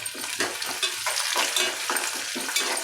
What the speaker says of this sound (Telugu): ఇప్పుడు మనకి ఉల్లిపాయలు అనేవి వేగినాయి